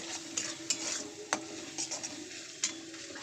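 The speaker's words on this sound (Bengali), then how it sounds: "চলো মশলাটা ভালো করে কষিয়ে নেবো" Spice paste for a prawn curry is stir-fried in a pan, a soft steady sizzle broken by a series of distinct scraping and clinking spoon strokes against the pan, close and without talk.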